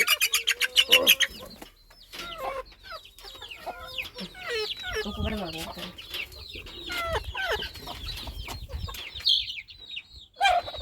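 Hens cluck and chicks peep in a busy, continuous chorus on a poultry farm, with a brief burst of wing flapping near the start.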